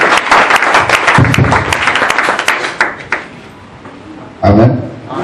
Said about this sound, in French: J'aimerais que tu acclames très fort sur Jésus